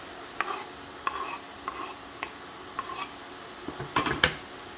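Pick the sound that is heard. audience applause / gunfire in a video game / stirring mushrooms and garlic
stirring mushrooms and garlic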